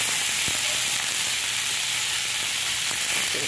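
Tomatoes frying in a pan for a home-cooked fish sarsiado, a dense, steady, close sizzle with faint clicks of stirring underneath.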